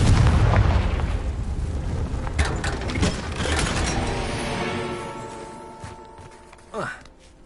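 Confringo spell blasts in the Hogwarts Legacy video game, a loud booming impact at the start that rumbles and fades over several seconds, followed by a brief sharp whoosh near the end.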